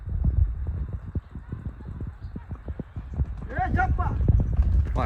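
A horse walking slowly, its hooves clip-clopping in a steady close rhythm, followed by a brief whinny-like call and louder rustling toward the end.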